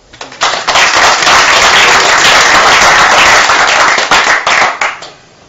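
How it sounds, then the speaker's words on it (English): Loud audience applause fills the room after a talk on family courts, dense clapping holding steady for several seconds before tapering off and stopping. "Okay, give him a clap."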